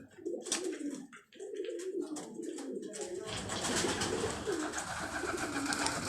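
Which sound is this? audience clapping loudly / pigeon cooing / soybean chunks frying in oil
pigeon cooing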